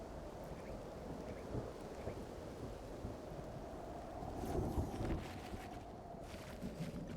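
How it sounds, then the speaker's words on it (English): Thunderstorm in Mind Over Magic: a steady wash of rain and wind with low, rolling rumbles of thunder swelling midway, fairly faint and distant. "Thunderstorm raging?"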